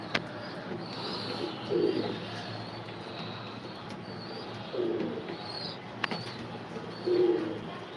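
Racing pigeons in a loft give three separate low cooing bursts spaced a few seconds apart, set against a constant hiss of room noise, with a faint higher chirp and no talk.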